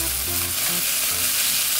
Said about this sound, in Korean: 저는 콩나물도 삶지 않고 그냥 바로 볶아요